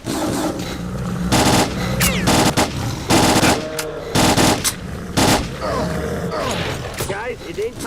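Rapid automatic gunfire bursts from a STALKER: Clear Sky firefight, loud repeated volleys with short gaps, mixed with game effects and voices talking underneath.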